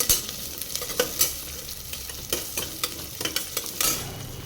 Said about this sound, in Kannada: ಅರ್ಧ ಈರುಳ್ಳಿನ ಕಟ್ ಮಾಡಿರೋದು ಹಾಕ್ಕೊತಾ ಇದ್ದೀನಿ ಇವಾಗ ಇದನ್ನು ಸ್ವಲ್ಪ ಫ್ರೈ ಮಾಡ್ಕೊತೀನಿ